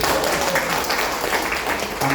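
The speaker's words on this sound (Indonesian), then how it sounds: "Tepuk tangan dong." Applause from an audience at a meeting: many hands clapping together in a steady, dense patter that fills the room and carries on throughout.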